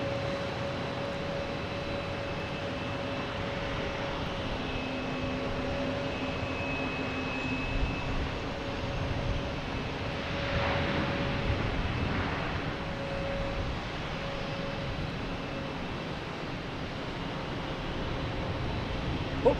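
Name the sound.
Porter airliner landing at Boston Logan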